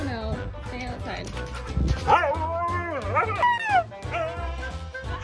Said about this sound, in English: Huskies can become very noisy, and they will stop being noisy once they get what they want.